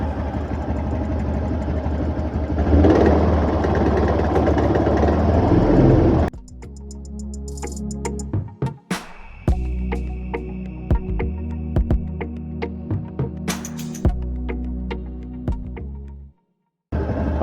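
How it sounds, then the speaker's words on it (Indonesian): A car engine running and revved to higher RPM during a workshop check of the engine temperature sensor, a steady engine drone with sharp ticks and clicks, broken off by a brief silence near the end; no talking. "mungkin bisa saya bantu dengan menaikkan putaran mesin agak lebih tinggi ya"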